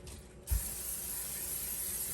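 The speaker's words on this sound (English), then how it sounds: "I'm gonna go in with my cooking spray." After a short click, a steady non-stick cooking spray aerosol hisses continuously at close range into an air fryer basket.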